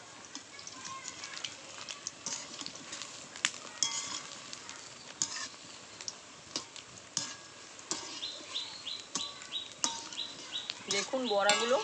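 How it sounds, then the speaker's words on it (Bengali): Jackfruit fritters frying in a pan are stirred with a utensil, giving intermittent scraping clicks over a continuous hissing sizzle, with faint bird calls in the background. "এবার একটু নেড়ে দেব দেখুন বড়াগুলো"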